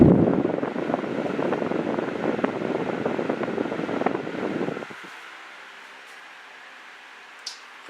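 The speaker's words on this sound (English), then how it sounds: "Here, so you can get a taste of the airflow." A Sharper Image 12-inch table fan blows air straight into the microphone, a steady loud gusty rush for about five seconds that then drops off abruptly to a faint hum.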